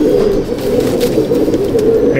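Pigeons in a loft coo and murmur close by, a dense, continuous low warbling chorus with faint rustling over the short stretch.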